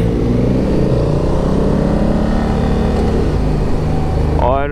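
DCT motorcycle ridden off-road in manual shift mode on a rainy-day trip through Baboon Valley, its engine droning loudly and steadily throughout, with a rising rev right at the end.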